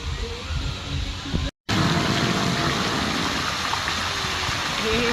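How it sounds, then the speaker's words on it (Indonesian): Water pours steadily down at an outdoor water park river ride after rain, a continuous close rushing gush with a brief break, with no one speaking. "Ada air turun dan ini udah pasti basah."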